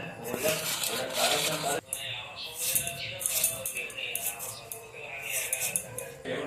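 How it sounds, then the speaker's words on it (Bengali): A knife slices banana stem into thin strips on a board, giving repeated soft scraping and chopping sounds at a steady pace, with a person talking over the cutting. "এবার কি ঝুড়ি ঝুড়ি করে কেটে নেব"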